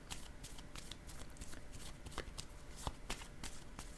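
Tarot cards being handled and drawn for a reading: a steady run of soft papery shuffles and flicks with sharper snaps near the end, close and fairly quiet, with no talking.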